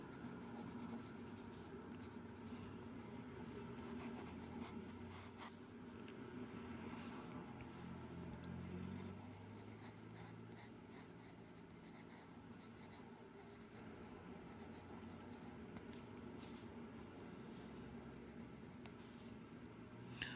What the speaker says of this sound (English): 3H pencil actually isn't too bad for sketching